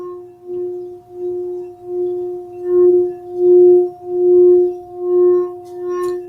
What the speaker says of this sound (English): listening to the healing tones of angel grace